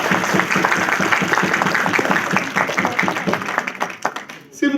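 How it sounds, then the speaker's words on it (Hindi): A seminar audience bursts into loud applause for first-time business members, dense clapping filling the room and then thinning out toward the end, with some voices mixed in. "एक बार जोरदार ताली इनके लिए होनी चाहिए।"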